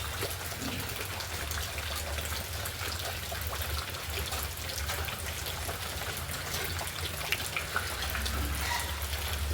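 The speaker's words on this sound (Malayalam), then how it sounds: "4 ഗ്ലാസ്സിൽ ഇത് ഒഴിച്ചു കൊടുത്തിട്ട്" Liquid pours steadily into four glasses, giving a soft, continuous trickling wash with a low hum beneath, quiet and unbroken throughout.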